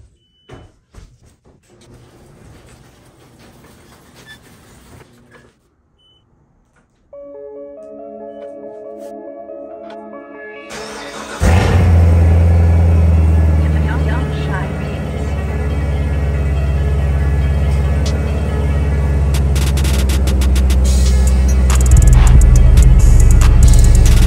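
After a quieter mechanical hum, a car engine cold-starts in a garage, turning over and catching, settling into a loud, steady low idle rumble that fills the rest of the clip.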